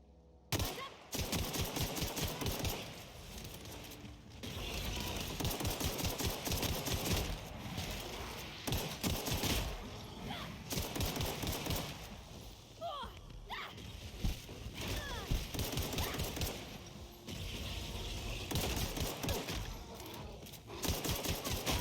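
Combat gunfire in the sci-fi RPG The Outer Worlds: sustained, dense bursts of shots running almost continuously through a busy battle mix, loud and close, with only brief pauses.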